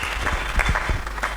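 A church congregation applauding during a sermon, a short dense burst of clapping from a crowd in a hall.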